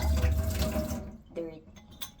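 Tap water runs into a container for about a second and then cuts off, leaving a few faint knocks and clicks in a quiet room.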